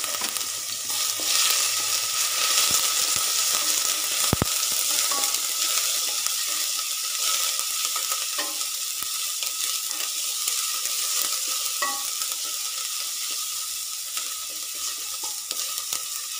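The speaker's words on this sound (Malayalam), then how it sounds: "നമുക്ക് ഇതിലേക്ക് ആവശ്യമുള്ള വെളിച്ചെണ്ണ ഒഴിച്ചു കൊടുക്കാം. അതിനുശേഷം നമുക്ക് ഇഞ്ചി, വെളുത്തുള്ളി പേസ്റ്റ് ഇട്ട് കൊടുക്കാം" Ginger-garlic paste sizzles and fries steadily in coconut oil inside a cooker, a dense continuous hiss with a few sharp spatters and occasional stirring scrapes, no voices.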